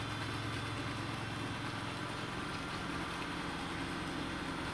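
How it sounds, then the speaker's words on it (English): A household washing machine runs nearby, giving a steady, dense whirring rumble that holds at an even level throughout with no pauses and no voices. "That is my washing machine's probably about to take off."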